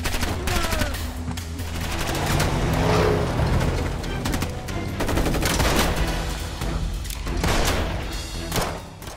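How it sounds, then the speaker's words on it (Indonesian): Gunfire during a film shootout between two gangs, dense continuous volleys of shots and thuds that stay loud throughout with no pause. "Terjadi aksi baku tembak di antara 2 kelompok itu"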